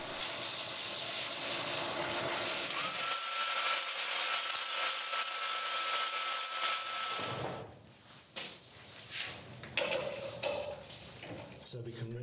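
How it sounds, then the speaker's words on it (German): A turned wooden shell box spins on a lathe while being sanded, giving a continuous loud hissing rub that stops abruptly, followed by quieter handling noises and shuffling. "jetzt schleife ich die Oberfläche und dann bin ich so gut wie fertig"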